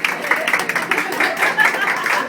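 A small group clapping at a sushi class; light, fairly close applause from a handful of people, with voices mixed in.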